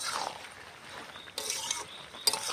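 Mixed vegetables are stir-fried in a pan, a soft scraping stir with a faint sizzle underneath and a few sharp clinks of the spoon against the pan, close and quiet, with no talking.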